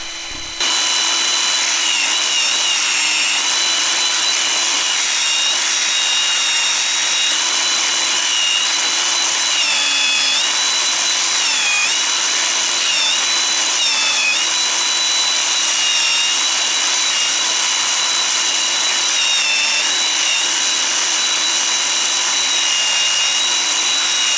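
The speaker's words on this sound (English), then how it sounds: "Returning the belt sander to the vise, I use it to finish shaping the end of the wedge" A belt sander held in a vise whines at a high, steady pitch close by, its tone dipping briefly as a wooden wedge is pressed against the belt, running continuously without speech.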